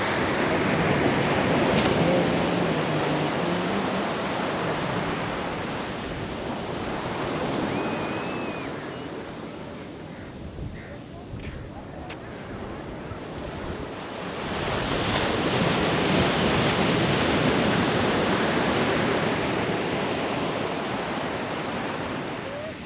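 Ocean surf at Rushikonda Beach in Vizag, with steady waves washing in and swelling louder, then easing, under heavy wind buffeting the microphone; no one speaks.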